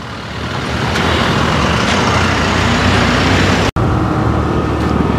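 Heavy trucks roll along a dusty industrial service road, a loud, steady roadway rumble that fills the whole stretch without a break, with no voices over it.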